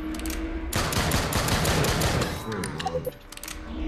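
Gunfire bursts in the Drop Dead: Dual Strike VR zombie shooter, a rapid volley of loud shots crackling through the middle of the clip after a short quieter lead-in, tapering into scattered impacts near the end.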